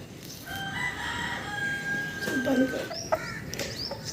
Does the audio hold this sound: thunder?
no